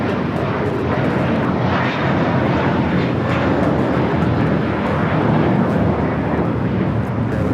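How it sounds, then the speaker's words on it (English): American Airlines flight 382, an Airbus A321, taking off from Los Angeles LAX for Boston, heard as a loud, steady, broadband jet roar that stays strong for the whole stretch. "This is American Airlines 382 taking off to Boston on the A321."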